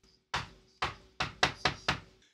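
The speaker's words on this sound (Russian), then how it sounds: "если бы их не прервал осторожный стук в дверь" Six sharp, close knocks on a door, the first three spaced out and the last three quicker and closer together, in an otherwise quiet room.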